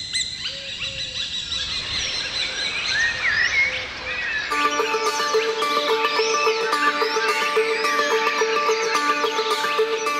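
Recorded birdsong plays through loudspeakers, a steady stream of chirps and whistled calls over a faint electronic hum.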